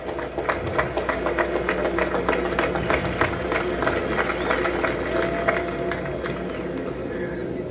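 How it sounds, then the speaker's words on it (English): A large rally crowd of men applauding, dense continuous clapping and cheering that fills the space evenly from start to finish, with no single voice standing out. "Give yourselves once again a great round of applause."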